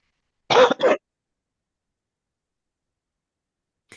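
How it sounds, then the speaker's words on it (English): A single short cough and throat clear, two quick rough bursts close to the mic, followed by silence in a quiet room. "I've got a bit of a cough."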